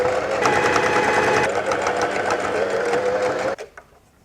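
A sewing machine runs steadily, stitching the elastic casing seam around the sleeve of a self-drafted top, with a loud continuous whirring hum that stops abruptly near the end.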